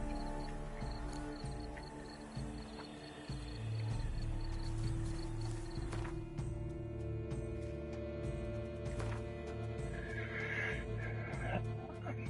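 A horse whinnies in The Witcher 3: Blood and Wine over a steady droning game soundtrack, with sparse clicks and tones around it.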